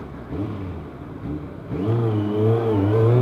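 A Kawasaki ZZR 1100 (ZX11) motorcycle engine revs up close, its steady mid-pitched drone climbing sharply in pitch and loudness partway through and holding a strong, rising whine to the end, with no talk.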